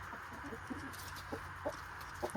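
Chickens on a small homestead give soft, scattered clucks and short calls over a low steady background hum, with several brief bursts standing out from the quiet flock.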